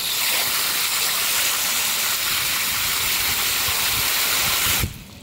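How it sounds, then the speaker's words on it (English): Large air bubbles pop rapidly in water, making a dense, steady fizzing hiss that carries on without a break and then cuts off abruptly near the end. "Bubbles pop really quick,"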